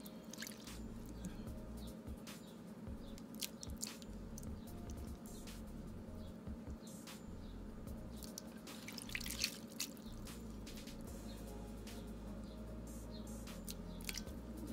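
Apple cider vinegar poured onto sea moss while making sea moss gel, a faint, steady liquid trickle with small drips and squishy wet sounds running throughout, close and quiet with no talk.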